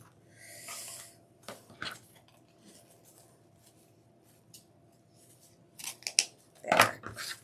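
Scissors snip through deco mesh for a Mardi Gras wreath, a few scattered crisp cuts with rustling between them, ending in a burst of quick close snips.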